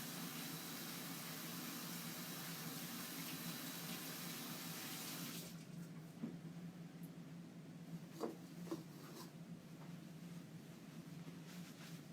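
Water running from a sink tap while washing up, a steady loud hiss of flowing water that shuts off partway through, leaving quiet room tone with a few small clinks and knocks.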